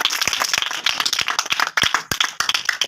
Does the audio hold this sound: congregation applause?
yes